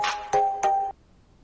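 A phone rings with three quick electronic chime bursts in succession, loud and close, then stops into near silence.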